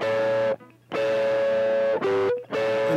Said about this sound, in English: With the vibrato, catch it under the finger and slide back.